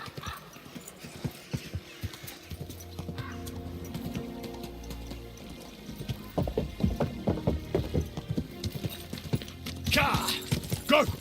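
Horse hooves clip-clopping in the medieval video game Kingdom Come Deliverance 2, starting as a slow walk and quickening into faster, louder trotting, with a brief whinny and game music underneath.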